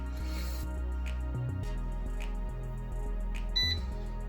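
An air fryer's control panel gives a short electronic beep near the end while the timer is being set to two minutes at 190 degrees, alone over steady kitchen background hum.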